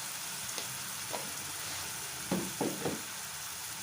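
Onions frying in a pan for a rajma masala lunch, a steady soft sizzle with a few brief stirring scrapes and clatters near the end, no talking.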